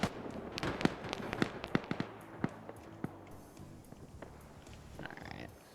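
Rapid bursts of gunfire in a military shooter game, with sharp cracks arriving in quick irregular clusters over a steady low rumble, fairly close and loud with no talking.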